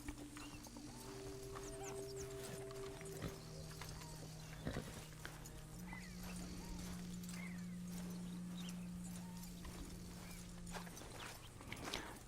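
Shire horse in Red Dead Redemption 2: soft hoof clops and shuffling movement under steady game music tones, faint and continuous.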